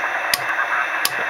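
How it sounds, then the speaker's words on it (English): Steady hiss of radio static heard while the inductor switch of an MFJ antenna tuner is rolled off frequency, broadband and constant, with two brief sharp clicks punctuating it. "You see how the static increases between J to K?"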